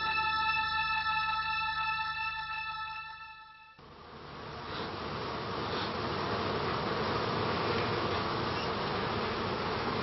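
Honey bees buzz steadily inside a hive as workers go about their tasks, a dense, continuous drone that swells after a brief dip and stays close and loud with no voices.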